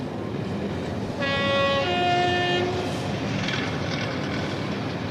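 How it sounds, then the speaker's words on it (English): A diesel multiple unit train from Cambridge rumbles steadily across the new Trowse Swing Bridge in 1986, and partway through its two-tone horn sounds clearly for over a second, with a steady running roar throughout. "The first train to cross with passengers is a DMU from Cambridge."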